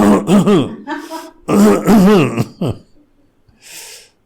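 A voice imitates a driver coughing from behind, producing several rough, throaty hacking bursts close up with short pauses, then a faint breathy trailing sound.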